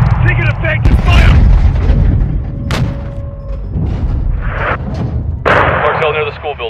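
Explosions and heavy combat blasts in Call of Duty: Modern Warfare 2 (2022) as an anti-air team is destroyed during the Close Air mission, loud booming bursts layered with gunfire and radio chatter throughout.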